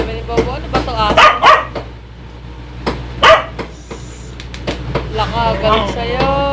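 A dog barks repeatedly and agitatedly in short bursts, some clustered close together, over a steady low hum; a few yips and whines come between the louder barks.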